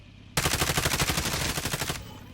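A rapid burst of automatic gunfire from a video game rattles off loudly for about a second and a half, then stops abruptly.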